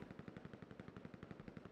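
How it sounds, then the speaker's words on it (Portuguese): Rapid automatic gunfire rattles steadily throughout, a dense stream of sharp shots with a crisp, synthetic game-like punch. "Ixi, tá tendo tiro aqui."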